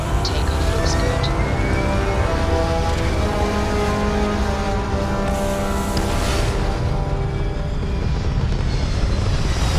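Spaceship lifting off in the game Starfield, a loud steady engine roar with rising whine and low rumble that holds for the full ten seconds without a break.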